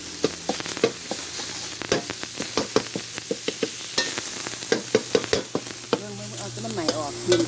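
Minced pork stir-frying for Thai kaphrao in a pan with fried garlic, with a steady close sizzle broken by frequent sharp scrapes and clacks of a spatula against the pan.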